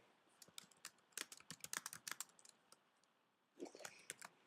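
Rapid clicks of a computer keyboard being typed on nearby, a quick irregular run of keystrokes, a pause, then a few more taps, with no talk.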